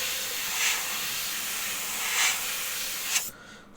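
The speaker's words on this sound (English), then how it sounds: "It's really quick with the airbrush" An airbrush hisses in short bursts of spray as paint goes onto model sand buildings, a steady close airy hiss that swells briefly a few times before cutting off near the end.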